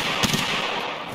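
Distant gunshots in the online shooter Escape from Tarkov, two or three quick muffled reports early on over a steady hiss of game ambience.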